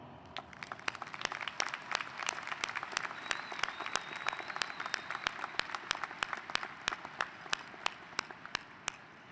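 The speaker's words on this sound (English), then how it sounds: "let's all together join in showing our collective appreciation with a round of applause." Graduation audience in a large hall applauding, a steady wash of many hands clapping at moderate distance with sharper individual claps standing out throughout.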